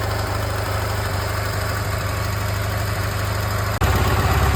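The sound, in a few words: restored M-72/K-750/Dnipro/Ural motorcycle engine running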